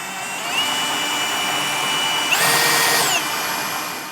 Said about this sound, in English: I'm going to step this up to a 5/8 hole